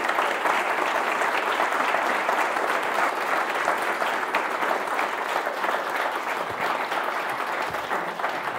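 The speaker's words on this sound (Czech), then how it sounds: "potlesk." A hall audience at a Prague public event breaks into steady, dense applause, loud and continuous from start to finish with no voices above it.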